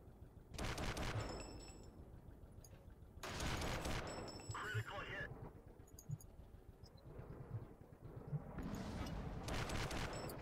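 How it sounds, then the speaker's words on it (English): A tank's machine gun fires in World of Tanks, the MS-1, in three long loud rapid bursts over a constant engine rumble. "Oh, right, I've got, like, the machine gun."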